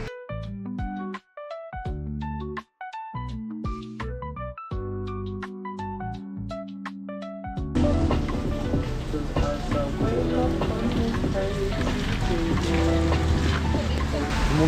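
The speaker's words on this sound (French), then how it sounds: "là, il pleut beaucoup" Heavy rain pours onto a street in Seoul, arriving about halfway through as a loud, dense, steady wash that replaces the quieter tonal music playing before it.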